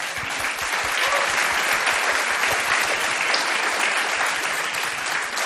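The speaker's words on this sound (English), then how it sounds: "Let's give him another round of applause." A large convention audience applauds steadily and loudly, a dense even wash of clapping that holds for the whole stretch.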